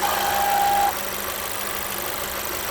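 A Mercedes A-Class engine idles with an abnormal noise from a failing water pump, showing up when hot after long idling; a thin, high whine rides over the steady hum for the first second, then fades, leaving the idle alone.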